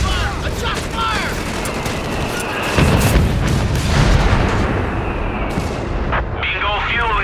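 Artillery shells explode in Company of Heroes 3 during a 4v4 battle, a dense, continuous barrage of booms and crackling blasts with a heavier impact about three seconds in, all under constant battlefield din.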